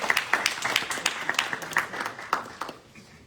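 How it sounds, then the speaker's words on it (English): A small audience applauding as a vice-presidential speaker takes the floor at a student government presidential debate, a sparse ripple of individual claps with distinct sharp hits that thins out and fades toward the end. "Let's give him a round of applause."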